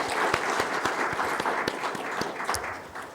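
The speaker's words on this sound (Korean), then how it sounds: "박수로 환영합니다." A church congregation claps during a Sunday worship service, with a moderate, fairly quiet patter of hands and some sharper individual claps standing out across a few seconds.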